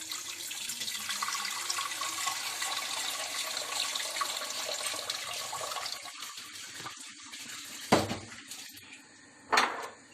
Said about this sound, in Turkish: Ocağımızı yaktıktan sonra 750 milim suyu tenceremize koyuyoruz.